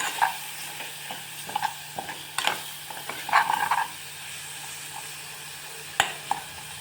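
Ellipaya chutney being stirred with chili powder and salt in a pan, giving soft scraping strokes and brief clinks over a low steady sizzle, close and fairly quiet, without speech.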